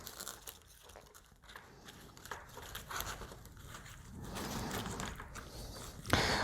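Duct tape crinkles and rips as it is wrapped around combat robot motors on a platform, a quiet series of crackling, sticky pulls building to a louder tearing strip near the end, with no talking.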